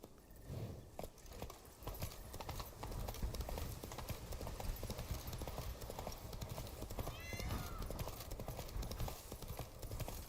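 Horse hooves clip-clopping in the video game Witcher 3, a quiet, steady run of hoofbeats lasting throughout with a brief whinny partway through.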